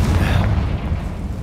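A fiery Confringo spell blast in the Hogwarts Legacy video game, a single loud, deep booming explosion that rumbles and fades over about a second, close and alone.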